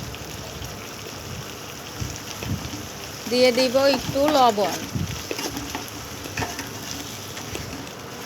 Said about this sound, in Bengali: চিংড়ি মাছ দিয়ে ভালো করে নেড়ে চেড়ে একটু হালকা ভেজে নিব